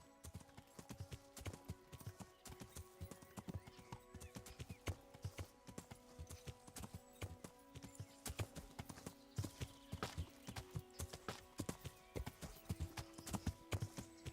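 Steady clip-clop of a horse's hooves in the video game Kingdom Come, a fast, even trot that continues throughout over a bed of background music.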